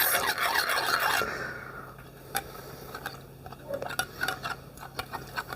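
Spoon scraping and stirring through a thick homemade face mask of yogurt, honey and turmeric in a bowl, a brief rasping rub followed by quieter intermittent clicks and scrapes, close and soft, with no talking.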